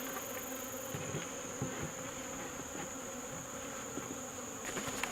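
Honey bees hum in a steady, continuous buzz around a newly installed nuc hive, with a few brief knocks and rustles mixed in and no talking.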